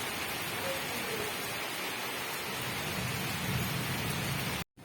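Heavy rain pours steadily outside a house, a dense, continuous hiss with low rumbling underneath that holds loud and unbroken before cutting off abruptly near the end.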